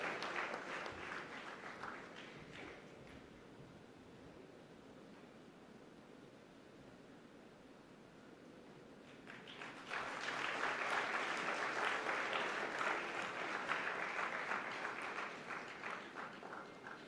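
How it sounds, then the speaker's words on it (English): An audience at a professional institute conference applauds during a felicitation ceremony in Pune, with light clapping that swells into a louder, fuller round of applause about halfway through and holds steady to the end. "Can we have a huge round of applause for Mr."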